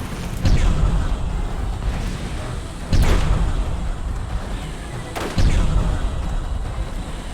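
Missiles fire in Borderlands as three heavy, booming launches spaced a couple of seconds apart, each rising out of a steady, loud rumble of battle noise.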